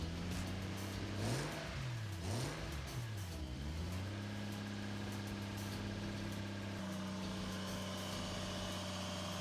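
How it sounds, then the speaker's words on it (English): Toyota Supra with a turbo conversion on its first start, engine revved in a few rising and falling sweeps, then settling into a steady idle, heard close and alone. "so I revved the car with the TPS in one hand and the throttle in another"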